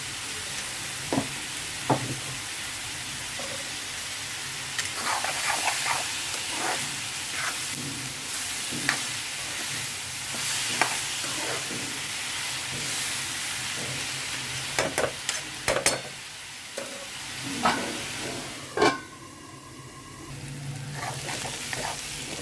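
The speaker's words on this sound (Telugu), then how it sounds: "ఉల్లిపాయలు ఫ్రై అవుతున్నాయండి ఇంకా కొంచెం ఫ్రై అవ్వాలి" Onions with a little salt frying in oil in a pan for an egg and dried shrimp curry, a steady sizzle with occasional stirring scrapes and clinks throughout.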